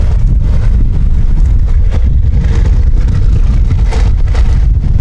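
A Hesston 1265 baler runs on a tractor's 540 PTO with hydraulic drive, making a loud, continuous low mechanical rumble under heavy outdoor wind buffeting.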